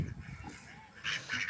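A pair of farm ducks give short honking quacks nearby, a couple of brief calls within a moment.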